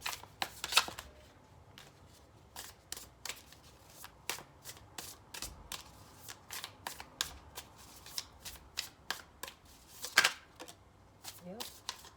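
Tarot cards being shuffled, heard as a string of sharp, close flicks and slaps at irregular intervals over a quiet room with low background noise.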